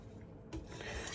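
A knife being sharpened on an abrasive stone, a short rasping scrape that rubs across the surface once or twice, faint and close.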